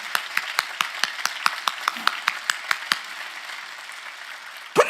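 Church congregation at a Korean sermon clapping hands in unison to a chant: about fourteen sharp, evenly spaced claps in a steady rhythm, close and clear, then a pause before a final louder burst.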